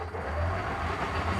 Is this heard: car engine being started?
yes